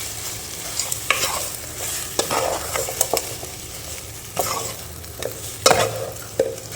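Potato masala gets stirred in a pan, a spoon scraping and clinking in irregular strokes over a faint sizzle, with no one speaking.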